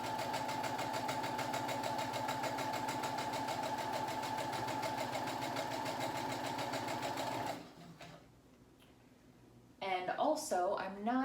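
A home sewing machine fitted with a quarter-inch piecing foot stitches quilt pieces, a loud steady mechanical whir that runs for about seven seconds and then stops, followed by quiet and then a voice speaking.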